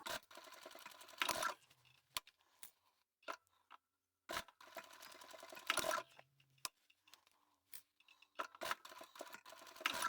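A sewing machine stitches the boxed corners of a small fabric pocket tissue holder in two short bursts of fast mechanical whirring, separated by quiet gaps with a few clicks and fabric handling sounds.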